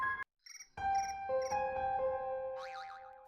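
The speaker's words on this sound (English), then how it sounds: "The phone buzzed again." A phone's electronic alert tone sounds in a short series of clear pitched notes for an incoming voicemail, followed by a rising, warbling tone, in a quiet room with no voices.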